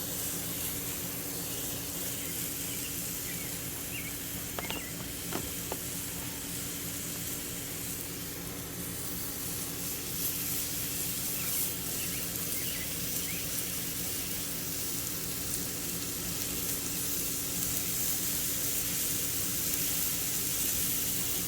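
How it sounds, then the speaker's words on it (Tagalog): Onions sizzling on a backyard barbecue grill, a steady soft hiss and crackle that runs evenly throughout, with a few faint clicks and ambient outdoor noise underneath. "I-barbecue ko rin tong sibuyas."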